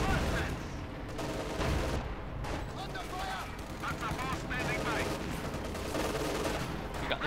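Rapid machine-gun and rifle fire from a Panther tank and German infantry in Company of Heroes 2, dense overlapping bursts of shots and battle noise running throughout, with a commentator talking over it.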